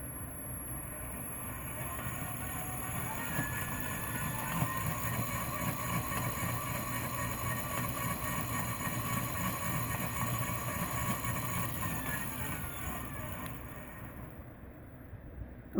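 An electric scooter motor runs under throttle on a rebuild bench, producing a steady whirring drone with a faint high whine that holds evenly for most of the stretch, then drops away near the end.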